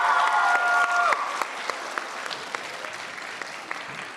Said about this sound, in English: Applause for our students.